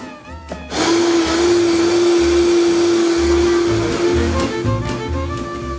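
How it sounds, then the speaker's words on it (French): A Vitamix blender whirs loudly and steadily, mixing a sauce for vegan spring rolls that includes lacto-fermented soy sauce. The motor kicks in after a brief quiet moment and runs on with a sustained whine. "Et enfin, je mixe."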